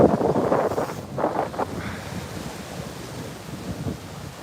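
Gusty wind buffets the microphone while ocean surf rushes and churns at a beach in Playa del Carmen at sunrise, loud at first and then settling into a steady roar.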